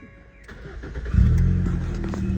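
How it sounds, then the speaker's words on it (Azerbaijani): An SUV engine cranking and catching up close, settling into a loud, steady idle hum right after the brief starter whir. "Bir dənə işə salaq avtomobilimizi."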